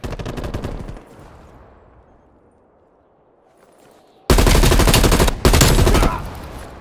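Rapid automatic gunfire from a first-person shooter match on Crossroads Strike, a loud burst opening the clip, then a quieter stretch before two dense, heavy volleys close it out.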